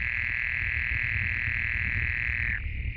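Males of swimming frogs and common toads give mating calls at a pond: a loud, sustained high trill that holds steadily and then cuts off, over a low background murmur.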